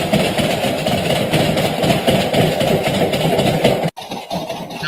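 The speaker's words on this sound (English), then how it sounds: "Sounds like the washing machine's off balance." A washing machine running off balance, giving a steady loud rumbling churn with continuous mechanical drone and a brief sharp break near the end before the rumble resumes.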